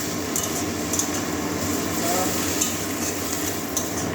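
Papaya and moong dal being sautéed and stirred in a pan, a steady close sizzle with scraping spoon strokes and faint clinks throughout, no speech.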